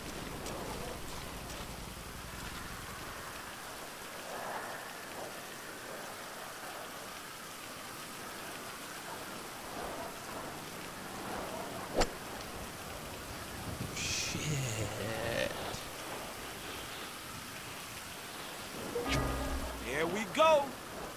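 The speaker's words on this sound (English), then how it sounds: "Now I can golf in the rain." Rain falls steadily on a golf course in GTA V as a soft, even hiss, with a sharp tick and a few brief louder noises toward the end.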